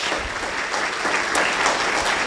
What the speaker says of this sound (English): If we can have a round of applause for them, that would be great.